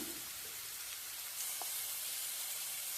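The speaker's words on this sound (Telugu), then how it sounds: "ఇప్పుడు మళ్ళీ బీరకాయలకి కాస్త ఆయిల్ పోసుకొని చూడండి బీరకాయలు అయితే వేసుకుందాం" Ridge gourd pieces frying in oil, giving a steady, soft sizzling hiss throughout with a brief faint tap partway through.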